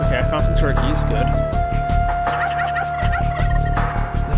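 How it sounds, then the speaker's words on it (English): Turkeys gobble repeatedly in Age of Empires 2 over the game's music, loud and close, while someone talks at points. "Okay, I found some turkeys."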